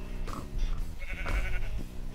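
Sheep bleating in the Minecraft video game, several wavering, nasal bleats in quick succession, fairly loud and close with no talking over them.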